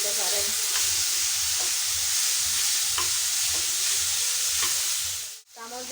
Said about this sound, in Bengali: চামচ দিয়ে ঘেঁটে নিয়েছি।